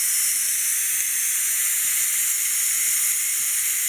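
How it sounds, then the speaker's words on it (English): Steam hisses loudly and steadily from the pressure release valve of a Ninja Foodi multicooker as it vents after cooking ribs, a continuous close rushing hiss with no talk. "changing the pressure valve to vent. And it's a little loud, but it's nothing to be scared of."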